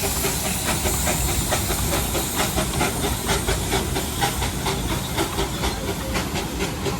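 A two-coach Darjeeling toy train passing, with loud, continuous steam hissing and a faint rhythmic chuff pulsing through it, steady and close throughout with no talking.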